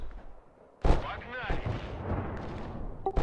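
Artillery fire in the Broken Arrow strategy game, a sudden heavy boom followed by rumbling blasts and a final sharp report, with a voice talking over the explosions.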